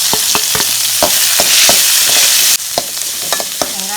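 Onions sizzle steadily in a hot pan for drumstick kuruma, with a continuous loud frying hiss broken by repeated spoon taps and stirring scrapes against the pan.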